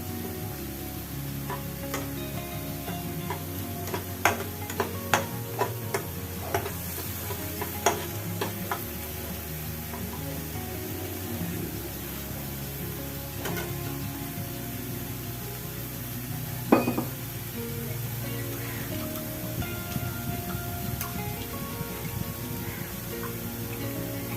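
Spice paste for a thin hilsa and eggplant curry fries in oil in a pan, giving a steady close sizzle with occasional scrapes and taps of a stirring spoon throughout.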